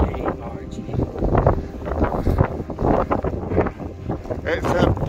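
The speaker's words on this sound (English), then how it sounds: "It's a bit wet and windy." Gusty wind buffeting the microphone on a wet, windy Munro hike over Stob Dubh at Buachaille Etive Beag in the Scottish Highlands, a loud continuous rumble with surging gusts.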